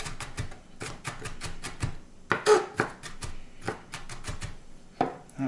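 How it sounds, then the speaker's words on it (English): Knife mincing onion on a cutting board for guacamole: a run of quick, close chopping taps in uneven bursts, some louder strokes in between, with no voices. "Get those onion bits nice and small, or as they say, minced."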